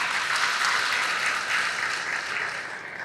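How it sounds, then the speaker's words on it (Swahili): A crowd at a Yanga SC club meeting claps for the executive committee members, steady and fairly loud for the whole three seconds, with no talk over it. "Kwa pamoja hao tuwapigie makofi wote tafadhali."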